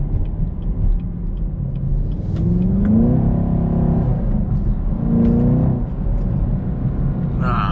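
A 2020 Chevy Camaro 2SS accelerates from inside the cabin, its engine rumbling low then rising in pitch through two strong revving pulls before easing off, loud and close throughout.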